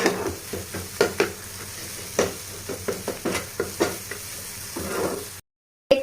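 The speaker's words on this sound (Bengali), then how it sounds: "দেখতেই পাচ্ছ পেঁয়াজ কুচিগুলো গলে গেছে অনেকটাই" Chopped onions sizzle and fry in a pan over raised heat while being stirred for Maggi noodles, with steady crackling broken by repeated close scraping and stirring knocks, then a short silence near the end.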